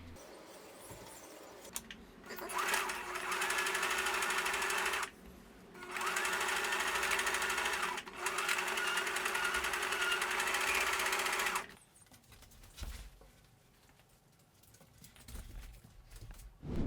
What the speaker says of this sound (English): I'm gonna sew these two together inside the seam allowance.